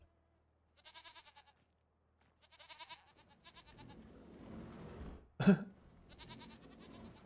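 Goats in the Farming Simulator 25 video game give several short, wavering bleats with pauses between them, followed by a rougher, noisier stretch with a sharp thump, then more bleating. No voices are heard.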